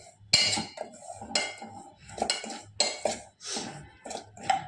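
Rice flour being stirred into ghee in a cooking pan, a metal spoon scraping and clinking against the pan in a steady series of close, moderately loud strokes with no talking.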